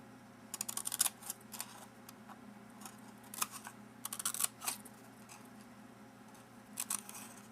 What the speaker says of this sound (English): So at the shorter half, I'm going to cut slits.